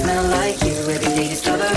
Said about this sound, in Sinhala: මෙන්න මේ අස්සෙන් තමයි මේ ගලින් තමයි වතුර එන්නේ